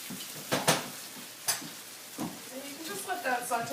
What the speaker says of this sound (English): And you can just let that saute as long as you like.